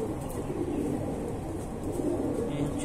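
Andhra Madrasi pigeons coo in a soft, continuous murmur close by, the throaty calls blending with steady background noise and no clear talking.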